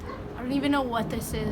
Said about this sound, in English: my dogs are barking inside